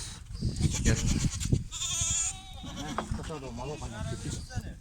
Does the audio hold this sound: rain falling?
no